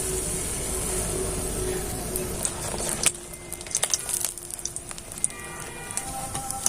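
Small spoonfuls of rice flour pitha batter frying in hot oil, a soft steady bubbling sizzle with scattered crackles and clinks, fairly faint, no talking.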